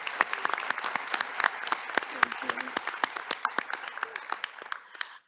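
An audience at a medical school white coat ceremony claps in a dense burst of applause, with sharp individual claps standing out. It fills the room for about five seconds and then stops abruptly.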